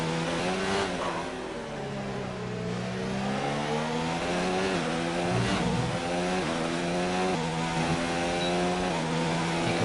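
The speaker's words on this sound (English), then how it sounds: "You can probably hear the car there revving a bit on the curb as we struggle for traction." A Formula 1 car in the racing game F1 2019, its engine revving high and wavering as the wheels spin for traction on a kerb in the rain, loud and continuous with no talking.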